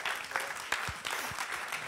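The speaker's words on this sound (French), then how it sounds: "On l'applaudit très très fort." Applause for a speaker at a business success event in Paris, a short burst of clapping from the audience with a couple of sharper claps standing out.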